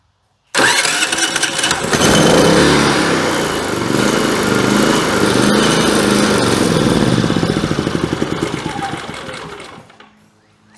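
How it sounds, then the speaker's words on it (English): A portable generator with electric start cranks for a couple of seconds, then catches and runs at a loud, steady chug close by, before cutting off near the end. "So as long as I have electric start working, my wife will crank the generator."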